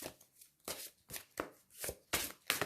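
Cards from a tarot deck riffled and shuffled by hand, heard as rapid repeated papery flutters and snaps in several quick bursts, close and fairly soft, with no voices.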